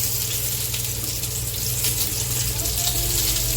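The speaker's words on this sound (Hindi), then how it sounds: "तो कबाब जो है अच्छे से फ्राई किए जा रहे हैं।" Chicken seekh kababs shallow frying in a pan give a steady, dense hiss and sizzle, close and continuous, with a low hum underneath and no pauses.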